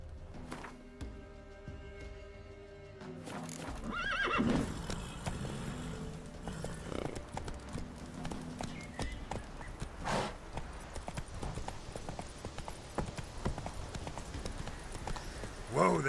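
Roach, the horse in The Witcher 3, is reined in with a burst of clopping hooves, then steady trotting hoofbeats continue over game ambience, with a brief spoken line.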